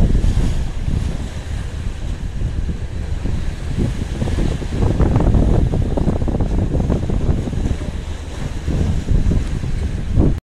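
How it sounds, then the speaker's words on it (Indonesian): Strong wind roars against the microphone over crashing high waves of the Sunda Strait at Bakauheni, a loud continuous rush of open water with no voices. "anginnya kencang, gelombangnya lumayan tinggi ya"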